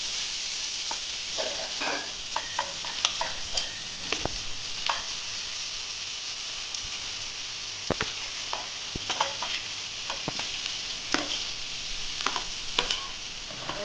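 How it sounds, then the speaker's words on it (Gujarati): Green onions go into a pan of tempered asafoetida and mustard seeds for a Kathiawadi eggplant bharta. They give a soft, steady sizzle, broken by scattered clicks of stirring. "હવે આપણે તેમાં લીલી ડુંગળી એડ કરીશું."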